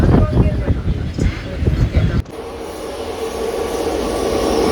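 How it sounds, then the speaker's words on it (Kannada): Shatabdi Express bound for Mysuru overtakes at speed near Byadarahalli, a loud rumbling rush with rhythmic clatter that cuts off abruptly into a steady, quieter rolling hiss. "ಬ್ಯಾಡ್ರಳ್ಳಿಯಲ್ಲಿ ನಮ್ಮನ್ನೀಗ ಓವರ್ಟೇಕ್ ಮಾಡ್ಕೊಂಡು ಹೋಗ್ತಾ ಇದೆ ನೋಡಿ ಶತಾಬ್ದಿ ಎಕ್ಸ್ಪ್ರೆಸ್"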